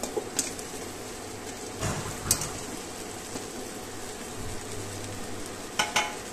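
Potatoes are tossed in with broad beans frying in a pan, giving a soft continuous sizzle with a few scattered stirring scrapes and light clinks, close but quiet, with no voices.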